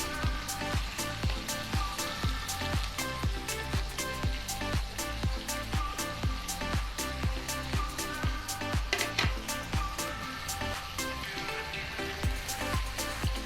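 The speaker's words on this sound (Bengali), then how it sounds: "দিয়ে দিচ্ছি সিমগুলো।" Flat beans tipped into a hot pan with tomatoes for a potato, bean and bori curry, setting off a loud, steady crackling sizzle that stays dense and continuous throughout.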